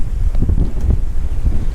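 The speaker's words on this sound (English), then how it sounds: "Almost 15 knots of wind." Strong wind buffets the microphone aboard a sailboat making about 15 knots of wind, a loud, continuous low rumble with gusting surges and faint water wash, no voices.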